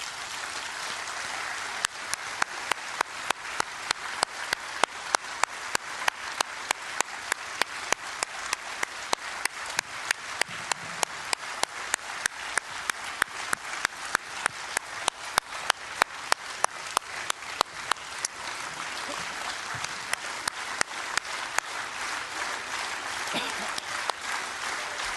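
Delegates at the close of a congress give sustained applause, a broad wash of clapping that settles into loud rhythmic unison claps beating steadily for most of the stretch before loosening again.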